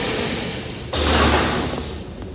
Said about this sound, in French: Ouvrez-lui la porte.